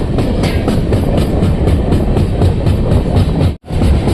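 Passenger train on the Chitradurga to Bangalore route near Kadur outer, a loud steady rumble with rhythmic clickety-clack of wheels over rail joints, briefly dropping out for an instant before resuming.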